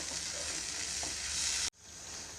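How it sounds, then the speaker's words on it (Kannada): Tomato gravy with ginger-garlic paste for aloo curry simmers and sizzles steadily in a pan, a dense, close hiss that cuts off abruptly near the end and then resumes more quietly. "ಇದನ್ನು ಒಂದೆರಡು ನಿಮಿಷ ಚೆನ್ನಾಗಿ ಕುದಿಸ್ಕೋಬೇಕು"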